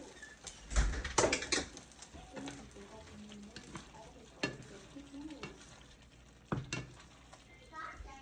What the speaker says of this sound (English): Now we're gonna add our broccoli.